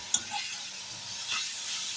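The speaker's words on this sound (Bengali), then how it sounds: "তো এটা গ্যাসটা বাড়িয়ে বাড়িয়ে আমি ভাজবো" Cabbage frying over high heat with a spatula stirring, a steady faint sizzle broken by a sharp scrape near the start and a louder stirring swell later, with no talking.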